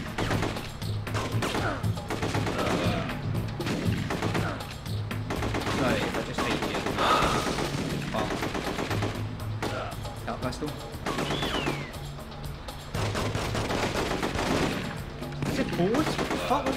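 Shotgun blasts and other gunfire in the video game The Getaway, a steady barrage of loud, close shots in rapid bursts filling the whole stretch, with voices mixed in.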